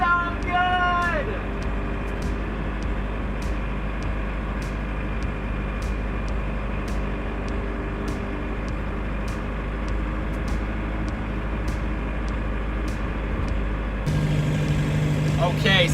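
Interior drone of an MK1 VW Rabbit Diesel on the road at sunset, a steady low engine and road rumble filling the whole stretch, with a brief voice near the start and faint regular ticking above.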